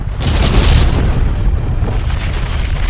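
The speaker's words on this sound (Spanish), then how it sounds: "Una explosión de 24 megatones, más destructiva que la bomba atómica de Hiroshima, que desintegra la cara norte de la montaña." A massive volcanic eruption explosion, a 24-megaton blast disintegrating the mountain's north face, roars as a loud, continuous deep rumble that booms and surges throughout without any talk.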